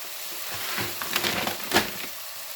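Banana and grated coconut sautéing in a pan give a continuous soft sizzle, with a few scraping stir strokes near the end. The sound is close and moderately quiet, with no talking.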